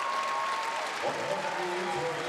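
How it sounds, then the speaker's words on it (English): Indoor crowd applauding archers at a compound archery World Cup final, a faint, steady wash of clapping in a large hall, with an announcer's voice over it. "Nice round of applause for both these archers, but especially that shot by Jesse Broadwater."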